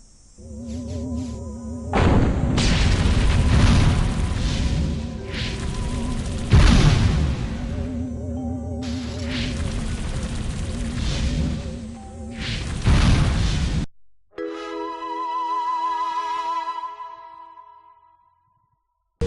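Weapons fire and explosions erupt in the Destroy All Humans game, a loud sustained barrage of booming blasts and crashes that cuts off abruptly, followed by a fading tonal effect and then silence.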